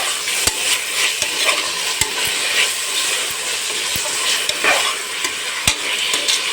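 Mint sautéing in a pan for peas pulao, a loud continuous sizzle close by, broken by frequent sharp ticks and scrapes of a spoon stirring against the pan.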